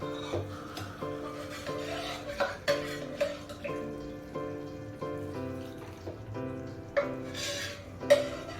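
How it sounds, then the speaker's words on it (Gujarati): Dal is stirred into a tempering in a pot with a spoon, giving repeated rubbing and scraping strokes in an uneven rhythm over steady background music. "તો આપણે એમાં દાળને મિક્સ કરી દઈશું."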